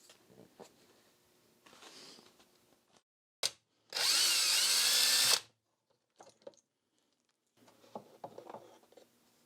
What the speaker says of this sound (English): go hand tight and then go 2 complete turns with a wrench